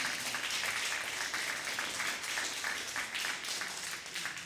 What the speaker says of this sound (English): So you can join me in a round of applause for our choirs